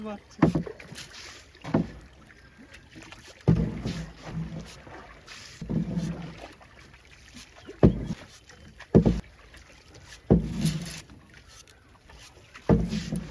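Oars working a wooden rowboat on open water, irregular knocking and splashing strokes every second or two, close and fairly loud, with wind buffeting the microphone between strokes.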